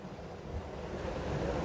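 Water pumped out fast beside an old steel door in a village farm setting near the Indus, rushing and tumbling down a few levels in a steady broad roar, close and continuous.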